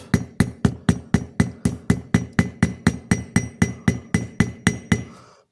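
Light hammer taps on a pocket knife held firmly against an anvil, about seventeen sharp, evenly spaced metallic strikes ringing close and clear, with no voices.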